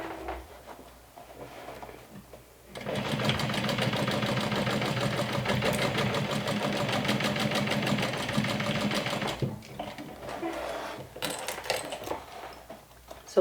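Sewing machine stitching through four layers of fabric on a wine bottle bag, a steady close whirring hum with a fast needle rhythm that runs for several seconds, then stops and gives way to a few quiet handling clicks.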